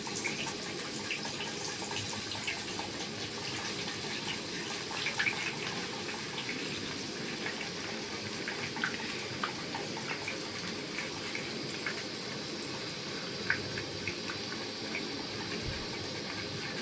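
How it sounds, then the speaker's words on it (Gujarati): Banana slices for chips fry in hot oil with a continuous dense hiss and bubbling, fairly soft and steady, with scattered small crackles and no talking. "હવે આપણે છે ને જો તેલ આવી ગયું છે અને આને પાડવાની ચાલુ કરી"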